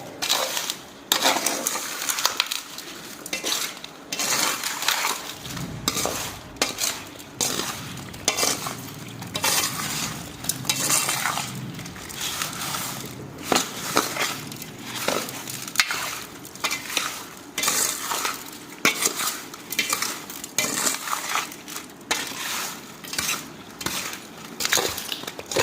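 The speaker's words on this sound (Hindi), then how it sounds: "अब ये मसाले पूरे इस तरीके से मिक्स करते हैं" A spoon stirs and scrapes spices through raw mango pickle pieces in a metal vessel, a steady close grinding and clinking that runs continuously without pause, with no voice over it.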